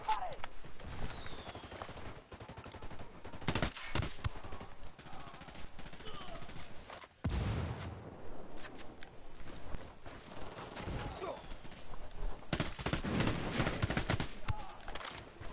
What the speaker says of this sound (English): What? There's more mortars?